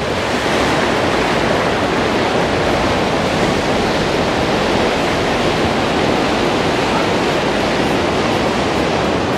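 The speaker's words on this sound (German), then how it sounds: "ihr seht das auch, wie die Wellen hier richtig gegen diese Mauer schlagen" Ocean waves crash against a pier wall at Arinaga on Gran Canaria, a loud, unbroken roar of surf and spray with wind buffeting the microphone throughout.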